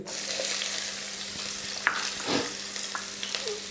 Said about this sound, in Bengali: আমি মাছ ভাজার তেলের ভিতরেই দিয়ে দেব বড় সাইজের 2টি পেঁয়াজ কুচি